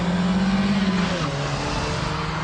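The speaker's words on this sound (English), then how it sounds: "So that's a combination of the handbrake turn and the reverse flick." A Ford Puma engine revs hard during a reverse flick into a handbrake turn, a loud close drone that holds a high note then drops in pitch as the car swings around, with tyre noise beneath.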